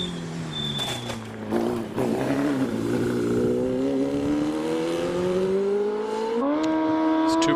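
A small 1-litre OMS hillclimb race car at Prescott accelerates hard with a high, rising engine note and a quick gear change, growing louder as it approaches.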